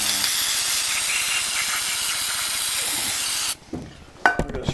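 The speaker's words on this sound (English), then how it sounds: "I'm going to spray our planetaries real quick." Cleaner is sprayed onto the planetary gears of a disassembled Snapper rear-end gearbox. A loud, steady hiss runs for several seconds close up, then cuts off, followed by a few light clicks and handling noises.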